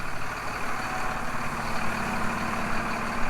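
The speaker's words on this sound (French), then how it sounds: "Là je vais mettre à chauffer les deux tracteurs." Two farm tractors idle while warming up before a long day of hauling manure, giving a loud, steady diesel rumble with a rough, slightly pulsing texture, close by and continuous with no voices.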